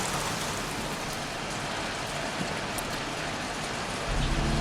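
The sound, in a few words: rain in the video game Heavy Rain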